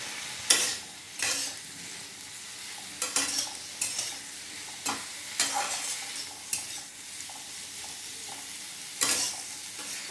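Spice mix being dry-fried and stirred in a pan for a chicken masala, giving soft continuous sizzling broken by about a dozen sharp scraping strokes of the spatula at irregular intervals, close and moderately loud, with no talking.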